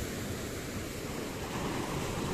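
A continuous roar of ocean surf with wind noise at Gandoriah Beach, broad and steady, with no distinct voices.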